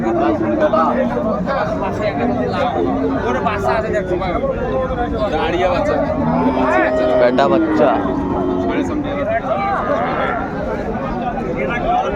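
Cows and calves of Sahiwal, Sindhi and local dairy breeds low and moo at a busy outdoor cattle market. The calls rise over a steady crowd hubbub, and people talk nearby throughout.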